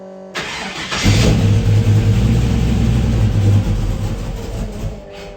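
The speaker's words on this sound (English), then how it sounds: "So let's see if it'll start." A hot rod engine cranks and fires, then settles into a loud, rough, rumbling idle close by.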